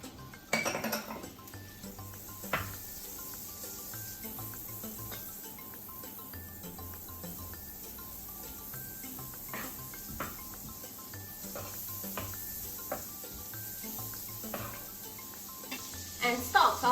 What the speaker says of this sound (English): I'm heating up the frying pan over medium-high heat